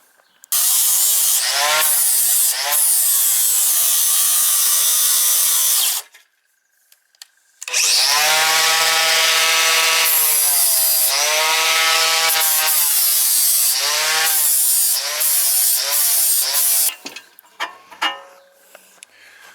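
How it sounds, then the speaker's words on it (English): An angle grinder cleans up welded steel joints on a sheet metal brake, loud sustained whining grinds in long bursts with a brief pause between them, then trailing off into scattered clanks. "We just need to clean all these joints up now with the angle grinder."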